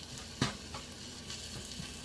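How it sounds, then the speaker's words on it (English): Ground pork frying in a pan with scallions, ginger and garlic, giving a steady soft sizzle with a single sharper stirring scrape near the start. "It says to break up the meat. Yeah, cook up the meat."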